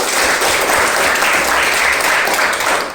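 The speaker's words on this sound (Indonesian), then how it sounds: "Tepuk tangan buat Leticia." Classroom applause at a junior high school lesson, a loud, dense burst of students clapping together close by, sustained evenly for a few seconds without talking.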